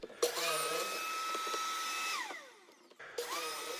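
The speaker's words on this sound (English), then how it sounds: "The Craig Foreman pocket hole machine makes drilling all these holes very efficient." A Kreg Foreman pocket hole machine gives a steady, loud whine, drilling wood for about two seconds, winding down, then starting up again near the end.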